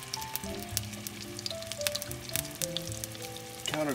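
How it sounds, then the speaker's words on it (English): Venison meatballs are set into a hot pan one after another, raising crackling sizzles and soft frying pops over a faint background melody, close and clear, with no talk. "It's time to put our meatballs on."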